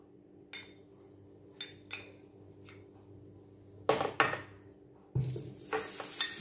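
Butter dropped into a frying pan used for cooking sole, with soft clinks of utensils against the pan, then a sudden loud sizzle that keeps hissing steadily close by.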